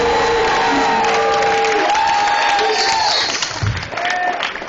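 An audience at a songwriters' event erupts in applause and cheering with whoops and shouts, a dense crowd roar sustained throughout, loud and full.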